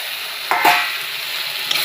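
Potatoes go into a pan of frying meat masala, a steady hiss of sizzling oil with a brief clatter and splash as the pieces drop in, then an even sizzle continuing alone.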